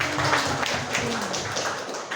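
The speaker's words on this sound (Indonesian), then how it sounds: "Tepuk tangan yang panjang." A congregation at an Indonesian Independence Day church service claps in a long round of applause, with dense, fairly close clapping and a few voices mixed in throughout.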